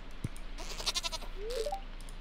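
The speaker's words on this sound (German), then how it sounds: "Mann, diese Ziegen, die nerven voll." A goat bleats in the farming game Stardew Valley, one short, nasal bleat that is quiet and slightly distant, heard alone over a faint background.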